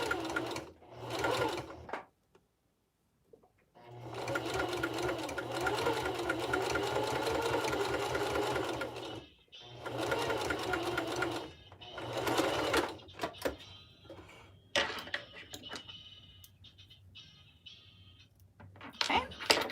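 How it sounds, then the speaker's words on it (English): A home sewing machine stitches a fabric loop for a Japanese knot bag wristlet, running close in several bursts of rapid whirring with pauses between them, along with handling clicks and some speech. "I am going to sew the loop as close to the edge as possible."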